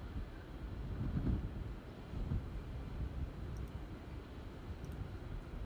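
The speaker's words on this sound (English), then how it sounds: "It sounds kind of windy." Steady wind noise in the X-Plane 12 flight simulator, around 10 knots, aboard a Phenom 300 jet, rushes and buffets throughout, a broad continuous roar with a few gusty swells and no voices.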